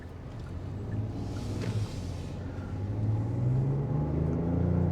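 A 2022 Genesis GV80 SUV with a 3.0L 208 kW diesel and 8-speed automatic accelerating, heard from inside as a smooth, low engine drone that rises steadily in pitch and loudness, with no talking.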